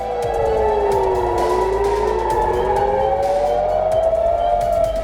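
A loud wailing air-raid warning siren in Haifa, Israel sweeps up and down continuously, rising and falling in long cycles with no pauses, close and steady throughout.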